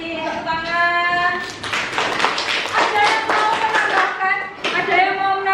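Classroom applause for a student who just finished speaking in an Indonesian coding lesson: a steady patter of clapping runs throughout, mixed with loud children's voices calling out over it.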